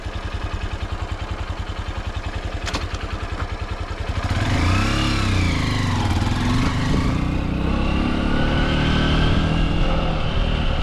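Honda XR150 dual sport motorcycle engine running close by, a steady single-cylinder idle that rises into a louder, revving drone partway through and stays loud to the end.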